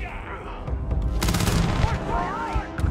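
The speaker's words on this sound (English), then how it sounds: "Wow, she had a shotgun. That did a lot of damage." Shotgun blasts in the sci-fi video game Starfield, a loud burst of gunfire that swells into a dense, booming barrage and fades, with whistling game effects trailing after.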